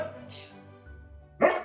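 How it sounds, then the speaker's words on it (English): A dog barks once, a short sharp yap breaking in near the end after a quiet stretch with faint background murmur. "And who is that barking in the background?"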